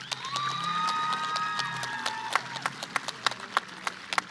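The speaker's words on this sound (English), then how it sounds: "Give yourselves a round of applause." Graduates applaud at a high school graduation ceremony, a soft steady patter of clapping with sharp louder claps standing out near the end, while a whistle-like tonal sound sweeps through the first half.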